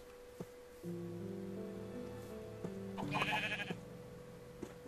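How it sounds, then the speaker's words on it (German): A sheep in the Minecraft video game bleats several times, drawn-out wavering calls at moderate level with a few soft clicks between them and no talk. "Achso, so ein Schaf."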